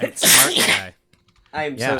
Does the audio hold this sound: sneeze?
yes